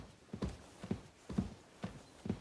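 Horse hooves clip-clopping at a steady walk in the medieval role-playing game Kingdom Come Deliverance 2, five evenly spaced hoof falls, fairly quiet and close, with no voices over them.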